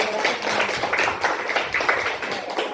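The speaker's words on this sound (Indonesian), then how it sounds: "Oke, tepuk tangan." Hands clapping together in a classroom, a continuous, fairly loud patter of many claps running steadily from start to finish.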